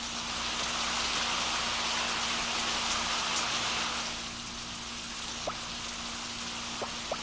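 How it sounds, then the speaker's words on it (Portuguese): Soft, steady patter of rain with a few distinct heavier drops, big thick drops falling after a storm onto mushroom caps outdoors, faint and with no voices. "Observe como as gotas de chuva caem que nem bombas sobre os chapéus"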